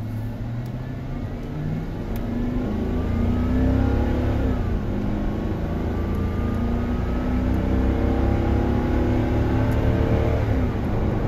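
A 2006 Dodge Magnum R/T engine with a new PCM drones loudly and steadily, its pitch rising as it revs up and accelerates, with road noise underneath.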